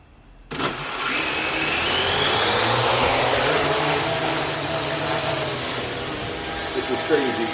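A Parrot AR Drone 2.0 quadcopter's rotors spin up for takeoff, launching suddenly into a loud, steady whir with a whine that shifts slightly in pitch as it holds, close to the listener.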